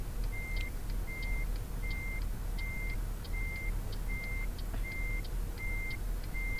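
Reversing alarm of a truck in Euro Truck Simulator 2, a steady series of about ten evenly spaced electronic beeps over a low engine rumble, moderately distant, with no voices.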